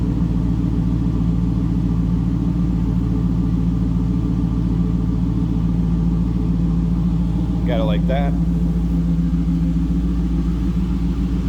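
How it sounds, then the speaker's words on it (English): A 2002 Chevrolet Camaro Z28 convertible idles from the rear with a loud, steady, deep exhaust rumble, and a voice briefly speaks over it. "Nice, deep, throaty exhaust."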